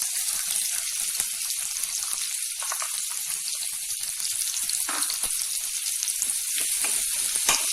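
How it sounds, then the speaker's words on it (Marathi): Onion frying in a hot pan with cumin seeds for Khandeshi methi zunka, a continuous close sizzle with scattered crackles and pops throughout, no voices. "कांदा छान परतून घ्यायचा आहे"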